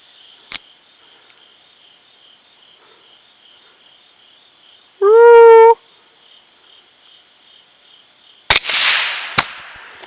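Gunshot fired during a coyote hunt: a sharp, loud blast near the end with a rolling, decaying tail and a second crack right after, preceded by a brief tonal howl-like call in otherwise quiet night air.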